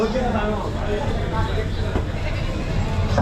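Young goat kids, about two weeks to a month old, bleat amid the crowded din of a large goat and sheep market at Chakan, Maharashtra, with voices talking throughout over steady background noise.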